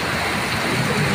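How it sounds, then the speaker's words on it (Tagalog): Heavy rain pours down in Davao City during flooding, a dense, steady roar of downpour that stays loud and unbroken throughout, with no voices. "Sobrang lakas ng ulan."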